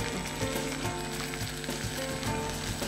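Ginger garlic paste with turmeric frying in a pan, a steady dense sizzle throughout with no talking.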